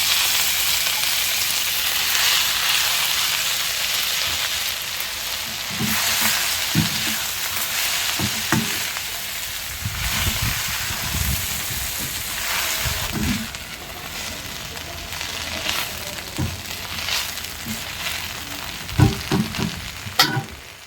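Small-leaf greens (sirukeerai) sizzle steadily in a hot pan with occasional scraping stirs, a continuous hiss with soft clatters, alone and close.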